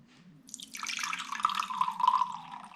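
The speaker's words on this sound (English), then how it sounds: "Drain off the liquid." Liquid from canned mandarin oranges drains and splashes in a steady trickling pour, close and moderately loud, building after a faint start and continuing to the end.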